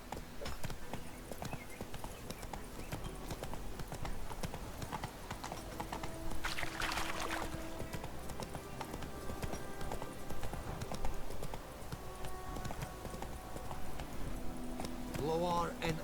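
A horse gallops in the video game Witcher 3, its hooves drumming a steady rapid clip-clop rhythm under game ambience and music, with voices talking over it.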